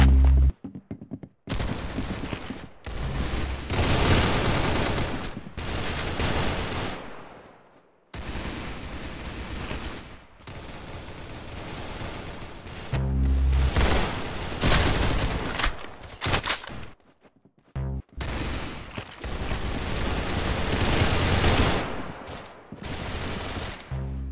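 Rapid gunfire from the Roblox Arsenal video game rattles in dense, loud bursts, with short gaps of silence between volleys and no talking.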